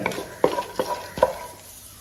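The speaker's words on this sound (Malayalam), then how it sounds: "കപ്പലണ്ടിയും നന്നായിട്ടൊന്ന് ഒന്ന് റോസ്റ്റായി വരുന്ന വരെ ഒന്ന് ഇളക്കി കൊടുക്കണം ഫ്ലെയിം മീഡിയത്തിൽ വെച്ചിട്ട് വറുത്താൽ മതി" Peanuts roasting dry in a pan over medium flame, stirred with a spoon in three distinct scraping strokes that rattle the nuts, followed by a softer settling patter with no talk.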